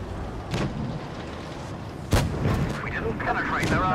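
Tank cannons fire in World of Tanks Blitz during a boss mode battle, with two heavy booming shots about a second and a half apart over constant rumbling game noise, plus some faint chatter.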